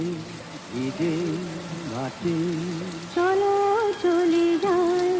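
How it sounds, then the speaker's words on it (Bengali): Heavy rain hisses steadily in the background while a voice talks over it. "এই বৃষ্টি আর সহ্য করা যাচ্ছে না"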